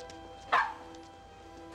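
A French poodle gives a short bark near the start and another at the very end, indoors over a low steady background hum.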